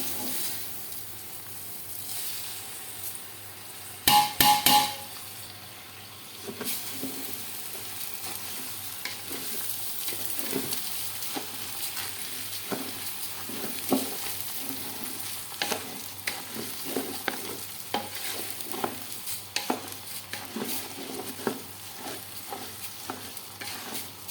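Washed regular rice being fried and stirred in a pot for biryani, with a loud clatter of pouring at the start, then continuous sizzling broken by frequent scraping knocks of a spoon, close and without speech.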